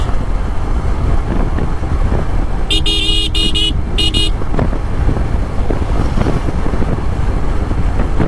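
Motorcycle riding along the 300 Feet road at steady speed, with continuous engine and wind rumble close to the microphone and a short burst of horn toots from nearby traffic partway through.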